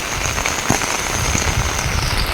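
Heavy, continuous monsoon rain pours down as a loud, dense, unbroken roar of drops hitting the ground, with no voices.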